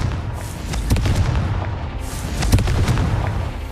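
Confringo explosive spell cast in Hogwarts Legacy: a dull booming blast and crackling bursts under steady background game ambience, fairly faint and brief.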